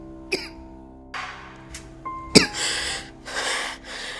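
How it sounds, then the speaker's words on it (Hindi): A person coughs suddenly in a quiet indoor scene, a few sharp, close bursts spaced over a few seconds followed by breathy throat sounds, with no talking. "ये अचानक तुम्हें खांसी क्यों हो गई?"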